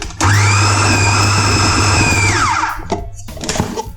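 A kitchen blender whirs loudly for about two seconds mixing high-protein, sugar-free cheesecake batter with added raisins, its motor whine winding down into a brief rattle and clatter afterward.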